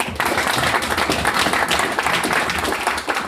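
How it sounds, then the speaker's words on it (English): An audience applauds at a startup founder event, a dense burst of many hands clapping that fills the room steadily and loudly throughout. "Let's give him a round of applause."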